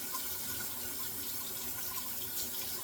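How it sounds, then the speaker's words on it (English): Hot water runs steadily from a bathroom tap over a razor before a head shave, a continuous close hiss and splash with no voices. "I'm going to take my razor and run it under the hot water for about 15 seconds"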